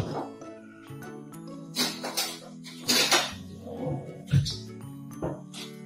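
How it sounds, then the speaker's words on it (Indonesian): A metal spoon clinks and scrapes against dishes while toast is prepared in a kitchen. Several bright clatters and taps come close by, with some rustling between them. "Saya ambil sendok dulu."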